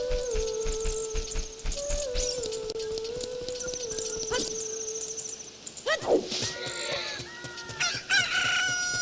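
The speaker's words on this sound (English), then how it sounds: "Look, a chicken hatched from the egg you're incubating" Chickens in Ocarina of Time's Lon Lon Ranch cluck and crow over game music, with a prominent rooster-like crow near the middle and busy fowl calls throughout.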